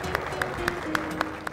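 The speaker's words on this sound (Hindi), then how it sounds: "बहुत सारी तालियों में इन्हें खुशामदीद कहिए अब्दुल हकीम नासिफ साहब।" Audience claps steadily to welcome a poet at an Eid mushaira, a brief, even burst of applause from a seated crowd heard at moderate distance, with a voice faintly underneath.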